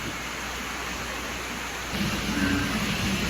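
Steady rushing typhoon wind and rain roar throughout in Palawan, growing louder and heavier about two seconds in, with a low rumble underneath.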